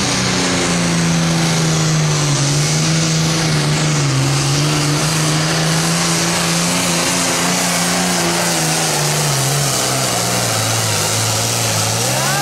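A Deere pulling tractor roars down the track at an NTPA truck and tractor pull at the 2010 county fair. The engine gives a loud, sustained, droning bellow with slowly wavering pitch across the whole stretch.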